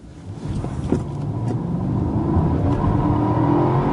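A 2015 Mercedes S500 accelerates hard from a standstill, its engine note building into a loud, rising roar with a brief thump near the start.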